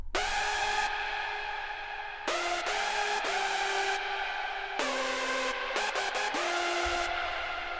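A loud layered hardstyle synth lead built from a plain saw and a detuned saw plays a bright, wide melody. It sustains long notes broken by quick rhythmic stabs and pitch changes, with no voice over it.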